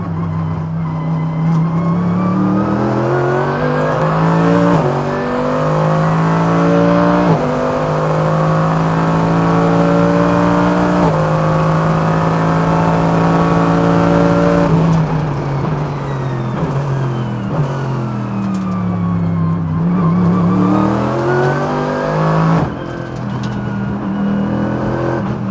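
Mercedes-AMG GT3 race car lapping the Wuhan CEC circuit from the cockpit, engine loud and close as it climbs through the revs, upshifts, then drops in pitch under braking and downshifts before pulling again.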